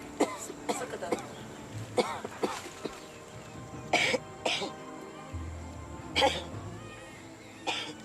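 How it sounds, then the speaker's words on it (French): A woman gives a series of short, sharp coughs spaced irregularly, fairly close, with brief pauses and faint background noise between them. "Toussez."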